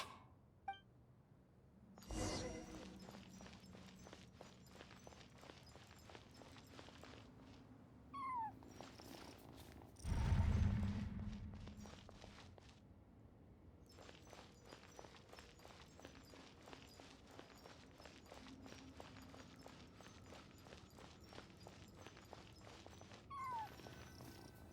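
A cat cries in a ruins-exploration video game, with faint meows rising over a quiet ambient bed, along with light footstep-like taps and a louder thump partway through.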